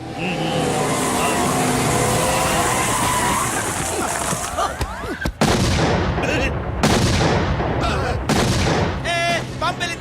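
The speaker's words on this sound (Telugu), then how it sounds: "బాంబు పేలింది" Loud, booming blasts of a bomb explosion in a film comedy scene cut through a dense mix of music and voices, with several sharp bursts in quick succession.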